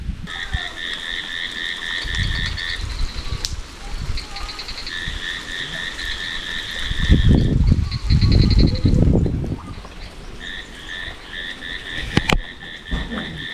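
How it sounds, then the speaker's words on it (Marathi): Frogs croak during heavy evening rain, calling in rapid rattling bursts that stop and start repeatedly, close and clear over a soft wet background with occasional low thumps. "इकडे ना बेडकं ओरडत आहे तो तुम्हाला आवाज दाखवत होतो ॲक्च्युली"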